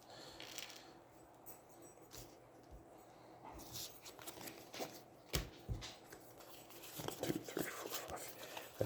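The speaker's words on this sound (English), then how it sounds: "I'm going to shuffle that in just a sec." Cards from the Aeons End board game are shuffled by hand with soft riffles and sharp snapping bursts, close and fairly quiet, growing busier toward the end.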